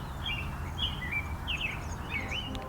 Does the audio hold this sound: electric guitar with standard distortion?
no